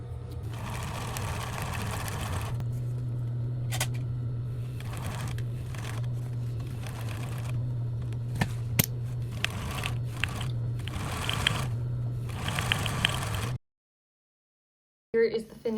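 A sewing machine sews a piece of a DIY checkbook wallet, humming in steady bursts separated by short stops and clicks, fairly quiet and close, then cutting to silence near the end.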